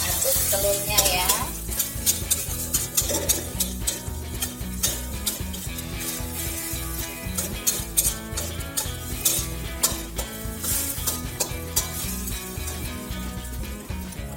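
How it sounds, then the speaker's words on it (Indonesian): Eggs stirred in a hot oiled wok for Hong Kong-style nasi goreng, with a steady sizzle of frying under repeated scraping and clattering strokes of a spatula against the metal, close and continuous throughout. "Kita aduk telurnya ya"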